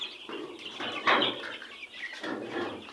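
Noiler and broiler chickens in a poultry pen rustle and flap their wings nearby, with soft scuffling and faint clucks in a steady, busy texture and no talk.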